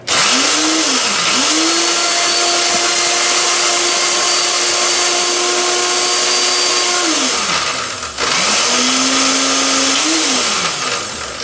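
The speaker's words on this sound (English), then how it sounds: "We're fixing to grind this up real quick, and we're going to see how it turns out." A blender grinds shrimp with onion for shrimp burgers, a loud, close motor whine that rises and holds, briefly stops, then whirs up again as the blades churn through the mixture.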